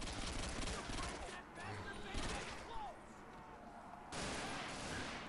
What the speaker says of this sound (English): Really like this gun. No recoil and just fires insanely fast.